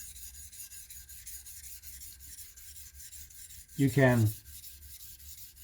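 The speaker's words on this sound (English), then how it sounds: "So you put the bevel on the stone, and without too much pressure" A knife's bevel drawn once across a polishing stone with light pressure, heel to tip: a single short, gritty rasp of about half a second, close and fairly loud, standing out from quiet background hiss.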